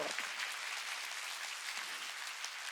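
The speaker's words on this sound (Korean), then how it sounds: "박수 치라" Steady, dense applause from a church congregation during a Sunday service, even and moderately distant, with no pauses and no voices.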